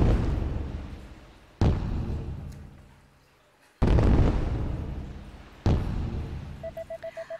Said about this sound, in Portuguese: E aí eles vão assistir os fogos de artifício juntinhos.